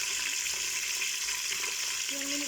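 Onions with whole spices such as cumin and cloves frying in a pan for langar-style dal, giving a dense, steady close-up sizzle with a brief tone near the end.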